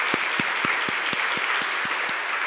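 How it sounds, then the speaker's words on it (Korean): A church congregation at a Sunday worship service applauds in rhythmic unison, about ten evenly spaced, steady claps over a constant background hum. "한번 박수로 환영하겠습니다."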